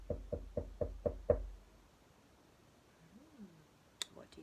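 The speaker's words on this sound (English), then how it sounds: "somebody knocking on the door" Six quick knocks on a door, firm and evenly spaced at the start, then fading into a quiet room with faint soft noises afterward.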